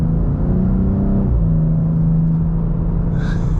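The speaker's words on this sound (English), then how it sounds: "this S58 engine with the ZF 8-speed is just such a good combination" A BMW M2 with the S58 engine and ZF 8-speed gearbox gives a loud, steady, deep engine drone. The tone steps up partway through and then holds as a sustained run, with no talk over it.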